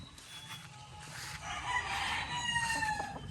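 A gamefowl rooster crows at a farm, a single drawn-out call at moderate distance over faint background clucking and ambient noise.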